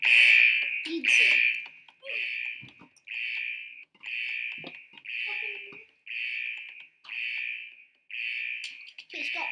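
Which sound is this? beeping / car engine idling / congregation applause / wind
beeping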